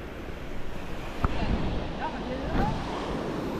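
Sea waves wash and churn around a small boat near rocks, a continuous near rushing swell that rises and falls, with people talking faintly over it.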